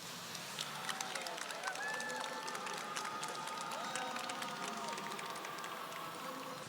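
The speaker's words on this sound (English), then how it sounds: "How about one more round of applause for this outstanding panel?" Sustained applause from a seated audience for a panel at a marathon expo event, a dense, even patter of many hands clapping at moderate distance for several seconds with no talk over it.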